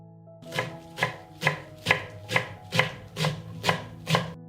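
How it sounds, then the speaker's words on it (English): A knife chops a bunch of fresh parsley on a cutting board in nine crisp, evenly spaced strokes, close and clear with nothing else heard in between. "I will chop a bunch of fresh parsley"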